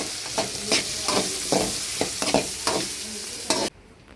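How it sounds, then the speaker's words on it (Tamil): Fenugreek, fennel and onion tempering in hot oil for a fish curry, a loud bright sizzle broken by regular stirring strokes about every half second, cutting off abruptly near the end. "தாளிச்சுக்கிட்டு இருக்கேன்"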